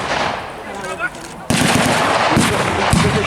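Rapid bursts of blank gunfire from Sten guns and rifles crackle at a World War II battle re-enactment in an open field, loud, near and continuous with overlapping shots.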